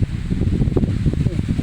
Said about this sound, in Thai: ลมหนาวมาแล้วพ่นองเอ้ย